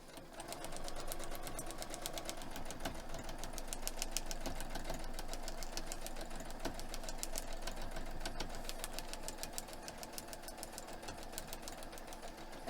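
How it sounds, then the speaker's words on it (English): A sewing machine stitches steadily along a line printed on foundation paper for foundation paper piecing, running as a fast continuous mechanical patter at close range for nearly the whole stretch with no talking. "So we're just going to sew right along this line right here."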